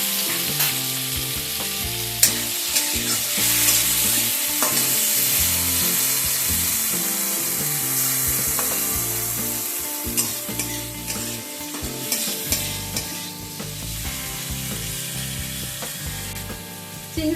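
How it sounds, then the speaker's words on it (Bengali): Shrimp coated in salt and turmeric fry in a little oil in a kadai. A loud, continuous sizzle runs the whole time, with frequent scraping, rattling stirs and clinks, and no talking. "এই যে সামান্য পরিমাণ তেল রয়েছে, এর মধ্যে আমি চিংড়িগুলোকে ভেজে নেব।"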